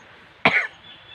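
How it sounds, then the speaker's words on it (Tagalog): One short, sharp cough from someone laughing, close by, against a quiet background. "Inuubo ka katawa."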